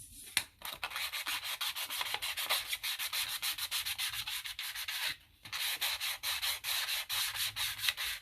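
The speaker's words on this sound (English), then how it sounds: "I'm just sanding that, and when you sand it, it just sort of makes it come right off" Fast, rhythmic scratchy rubbing of a nail file against paper, many quick strokes close up, with two brief pauses.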